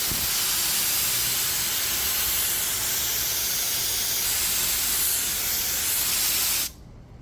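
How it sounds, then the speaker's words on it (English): Steady, dense hiss of a siphon spray gun misting solvent continuously for several seconds, loud and close, then cutting off abruptly. "it creates a nice atomized spray mist"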